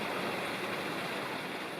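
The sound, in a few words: stream water flowing above waterfall in forest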